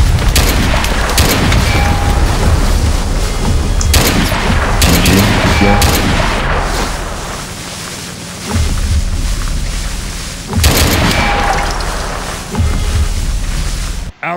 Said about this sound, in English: Blow the tank.